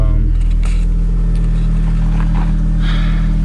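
BMW 335 with the N54 engine running at a steady idle, a low continuous hum and rumble from close by with faint clicks and noises on top.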